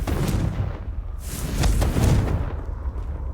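A Confringo explosive spell blast in Hogwarts Legacy erupts in a close, loud burst of booming, crackling explosions, with a second surge of blasts following shortly after before fading into rumble.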